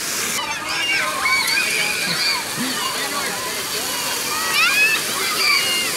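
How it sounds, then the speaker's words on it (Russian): Water from a fountain in Salou, Spain, splashes and sprays continuously, with children's voices and shouts scattered over the rushing water. "Пришли на фонтаны с Дрюнькой, потому что на море волны."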